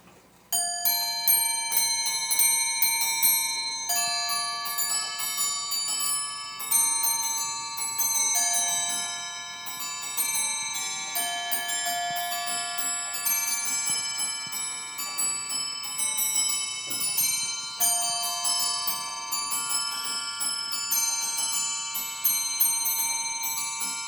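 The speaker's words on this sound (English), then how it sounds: "We see the pin barrel here with these small pins that come around and actuate the hammers and make them play the tune." Musical clock with a pinned barrel striking bells through hammers to play the tune Rakes of Rodney, a bright, continuous melody of ringing chimes heard close and clear with no talk.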